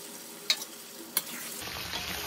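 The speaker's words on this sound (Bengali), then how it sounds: "এবার আমি মাংসটা দিয়ে দেব। মাংসের সাথে আলুও দিয়ে দেব।" Meat and potatoes going into a hot pan, giving two brief clatters followed by a soft, steady frying hiss that continues close by with no talking.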